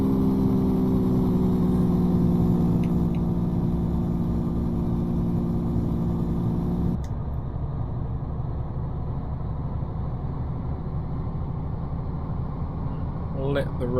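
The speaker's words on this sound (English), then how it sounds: "Full engine brake." A vehicle engine brakes on the road during a construction job in Mexico: a steady low drone with a strong tone that suddenly drops away halfway through, leaving quieter rumble, with brief talk near the end.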